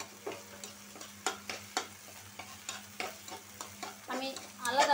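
An egg fries in oil left from cooked snake gourd, giving a soft steady sizzle broken by repeated sharp spatula scrapes and taps, ending in a louder burst of frying.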